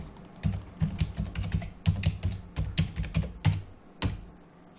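Fingers type on a computer keyboard nearby, a run of crisp key clicks in uneven bursts with short pauses, then a final tap after a gap.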